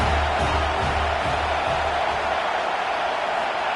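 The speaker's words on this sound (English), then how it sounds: "Crowd trying to help out here on 4th down" A football stadium crowd roars on fourth down in a dense, steady wash of cheering and noise that stays loud and constant with no distinct voices.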